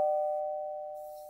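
A doorbell rings once with a sustained clear tone that slowly fades, heard alone without talk.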